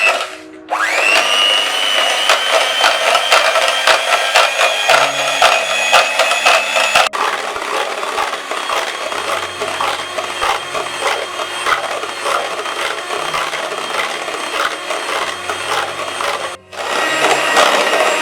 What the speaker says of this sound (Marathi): आता ही व्हिप क्रीम मी फेटून घेत आहे